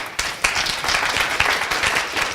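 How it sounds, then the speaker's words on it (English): An audience breaks into a round of applause in a classroom-style talk, a dense, steady patter of many hands clapping that carries for the whole stretch at moderate loudness without a break. "Give him a nice round of applause."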